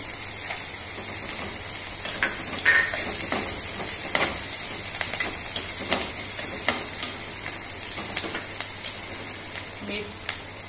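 Green chillies and peanuts fry in a pan, giving a steady crackling sizzle with scattered stirring clicks and spatters from close by, and no talk.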